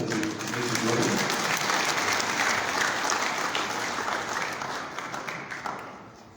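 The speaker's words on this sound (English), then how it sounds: "We can clap hands for Elasto as he makes his words." An audience at a memorial service claps in sustained, dense applause that stays loud for several seconds and then thins out toward the end. Indoor crowd noise and faint voices sit underneath the clapping.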